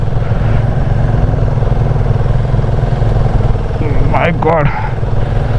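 Royal Enfield Himalayan motorcycle engine labouring up a steep 45-degree climb in the Zanskar Valley, Ladakh, a loud steady low drone close by, with someone speaking briefly near the end.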